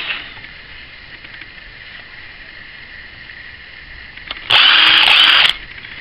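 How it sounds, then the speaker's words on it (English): A power drill bores through the end of a plywood piece held over open vise jaws, a single loud whining burst of about one second standing out near the end against quiet room background. "Then you can drill through your end of your piece of plywood."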